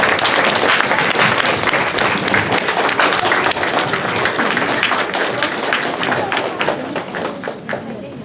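Audience in a music school hall applauding young carol singers at a concert, dense loud clapping from many hands that holds steady and slowly tapers toward the end.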